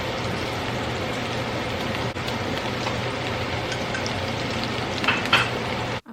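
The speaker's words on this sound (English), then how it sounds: "I'm going to allow the tomato paste to fry up in the butter with the veggies" Vegetables and tomato paste saute in melted butter, a dense, even sizzle that holds steady, with a few brighter crackles near the end before it cuts off abruptly.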